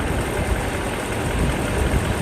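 A Mercedes S500 V8 idles just after a timing chain and guides repair, with a slight rocking to the engine. The idle is a steady, loud, close rumble that holds evenly throughout.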